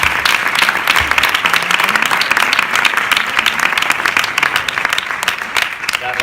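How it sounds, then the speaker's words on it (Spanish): Audience applause at a talk on feminist complicity in Jerez, loud dense clapping sustained for about six seconds, with faint voices mixed in underneath. "te daría un aplauso"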